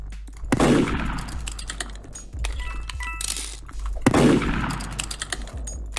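Gunfire in the Roblox game Murder Mystery 2: two loud, booming shots a few seconds apart, each ringing out under a bed of steady game noise and clinks, with no voices.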